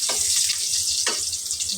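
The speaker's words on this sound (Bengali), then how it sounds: "মরিচটা একটু ভাজা ভাজা করে নেব" Chili peppers frying hard in hot oil in a pan, a loud, dense, steady sizzle and crackle filling the whole moment, with a couple of brief stirring scrapes.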